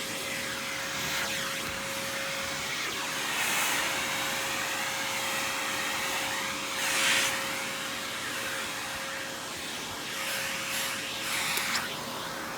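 An Aerus Lux Guardian upright vacuum runs continuously with its upholstery tool attached, a steady loud whooshing roar with a constant tonal hum and small swells as the nozzle moves across fabric.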